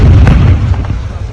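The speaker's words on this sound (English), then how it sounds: "Here's one of the explosions on the facility." An explosion strikes a Wildberries facility in Simferopol, heard as a loud, heavy boom with deep rumbling that fades over about a second.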